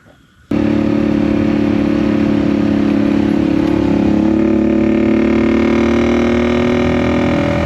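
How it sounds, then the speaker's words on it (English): A classic carbureted motorcycle engine cranks and catches on the first start after a brief quiet moment, then settles into a loud, steady idle with a rough mechanical rumble. "What carbureted motorcycle do you know that does that? First start, probably the first crank."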